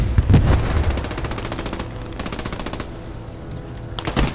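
MG34 machine gun in a WWII video game on an Eastern Front map fires rapid sustained bursts, a dense staccato rattle with a brief pause and a fresh burst at the end, loud and close with no talk.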